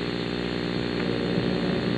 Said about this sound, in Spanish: Este es el helicóptero del Ministerio de Transporte y Comunicaciones